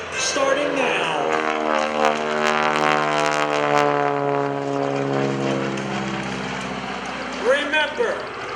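Propeller airplane engine at an airshow droning steadily overhead throughout an aileron roll with a wing walker riding outside on the wing, the tone shifting slightly, with an announcer talking over it.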